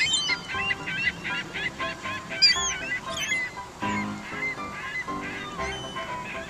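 Loud honking calls from several geese or similar fowl feeding in a supermarket parking lot, overlapping in rapid bursts close by, with occasional higher squawks mixed in.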